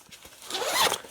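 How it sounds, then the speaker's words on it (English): A single zipper pulled along a studio backdrop case, a short rasping run that rises in intensity toward the end, close and clear. "There's the zipper for this thing."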